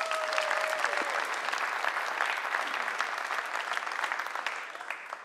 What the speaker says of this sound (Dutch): Kandidaat 1, geef hem een groot applaus.